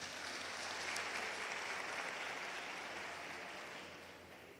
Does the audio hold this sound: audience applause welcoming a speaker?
yes